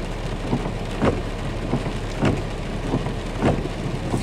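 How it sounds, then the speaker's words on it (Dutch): Steady heavy rain drums on a car while driving, a dense continuous hiss with periodic louder splashes and thumps from drops on the body and glass, and no voices. "En het regent. Behoorlijk."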